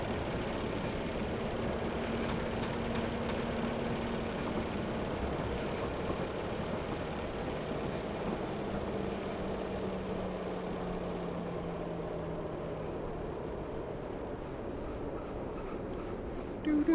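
A Class 101 diesel multiple unit train running in Train Simulator Classic on the Birmingham Cross City line, giving a steady low engine drone and rumble that holds evenly throughout.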